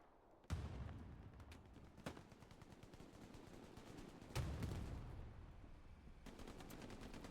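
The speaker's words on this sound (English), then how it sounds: "Artillery strikes are coming in." Artillery strikes in a multiplayer war video game scrim land as heavy booming blasts at irregular intervals, followed by a dense rumble of distant gunfire.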